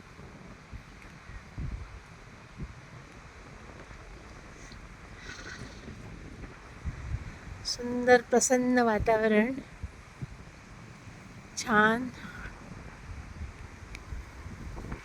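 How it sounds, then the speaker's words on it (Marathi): Strong wind gusts during heavy rain on a rooftop terrace buffet the microphone with a constant rushing roar while someone speaks briefly over it. "इतका वारा सुटलाय की फोन सुद्धा हातातून कधी पडेल ते सांगता येत नाही."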